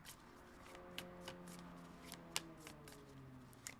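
A deck of tarot cards is shuffled by hand, with quiet riffling and soft snapping flicks repeating in a loose rhythm, close and faint.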